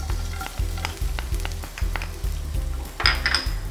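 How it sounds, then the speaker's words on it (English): Garlic frying in oil in a pan, a steady close sizzle broken by repeated rhythmic stirring and scraping strokes, with a brighter hiss rising near the end. "I'm going to go ahead and add some oil into the pan. And to this, some garlic,"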